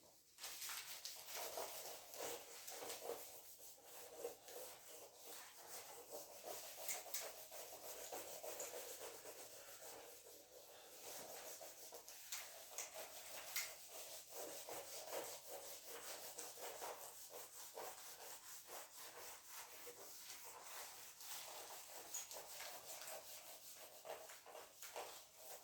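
Chalk or a duster rubs steadily across a classroom board during a kinematics lesson, making a continuous scraping rub that lasts throughout without talking.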